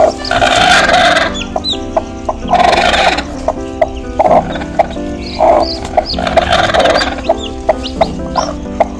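A hen gives loud, agitated clucks and squawks close by in bursts as her newly hatched chicks are taken from her, with softer clucking between the outbursts.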